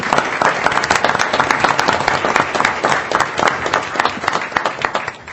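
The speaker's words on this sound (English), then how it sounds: "I think that alone deserves a big round of applause." Audience at a school board meeting breaks into steady, dense applause, many hands clapping loudly and continuously for several seconds with no talk over it.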